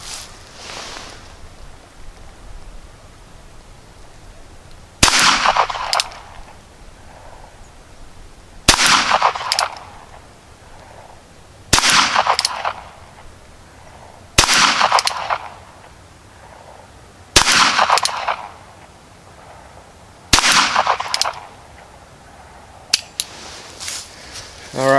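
A Ruger Wrangler revolver fired at 10 yards outdoors, about seven loud, sharp single shots spaced a few seconds apart, each with a short ringing tail, over quiet background noise.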